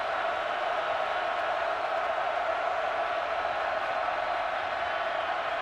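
Road stadium crowd noise swelling for a third-and-13 in a TCU at Iowa State college football game, a steady, fairly distant roar held at an even level throughout.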